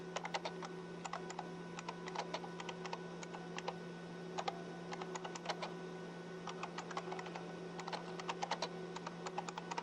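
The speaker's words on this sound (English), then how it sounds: "Hope I'm typing right because I'm not watching." Rapid, uneven key clicks from someone typing on a computer keyboard, close and fairly quiet over a steady electrical hum, with no voice.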